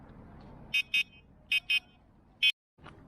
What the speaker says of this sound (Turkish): Çok güzel bir kornası var gerçekten.